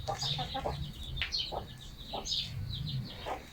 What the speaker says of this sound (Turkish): Tavuklara da yem atacağız